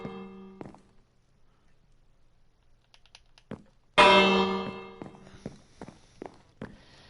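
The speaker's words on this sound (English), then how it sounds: "There's the bell." A town bell in a video game strikes once loudly and rings out with a long decaying tone, framed by scattered thuds and footstep-like knocks before and after.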